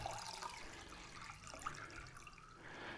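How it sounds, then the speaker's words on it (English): Fresh, clean water pours steadily into a ceramic vase for a flower arrangement, a continuous moderate splashing and trickling with no talk. "we need to add some water. So just fresh, clean water is fine"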